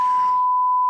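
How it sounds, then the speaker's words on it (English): A single long censor bleep, a pure steady electronic tone sustained almost the entire stretch, loud and alone, with a brief trace of voice fading out at its start. "I do a longer beep."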